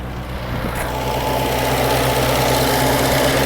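A 1998 Reliant Robin engine runs steadily at close range, a continuous low rumble with a faint knocking texture that holds even and grows slightly louder over the few seconds.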